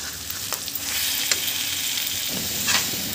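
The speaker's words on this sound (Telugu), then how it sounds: "మనము అల్లం వెల్లుల్లి పేస్ట్ వేసిన తర్వాత పచ్చివాసన పోయే వరకు బాగా వేయించుకోండి." Ginger garlic paste fries in a hot pan, giving a steady loud sizzle with a few sharp scraping stirs, close up and with no talking.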